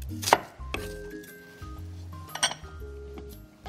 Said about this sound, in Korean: 지금 이제 양파, 요거는 조금 이렇게 좀 썰어 놓으시고요